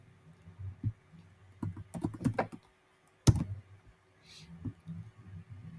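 A computer keyboard is tapped in short bursts while a form title is typed, light clicking keystrokes with gaps between them, close and fairly quiet, with a faint murmur of speech.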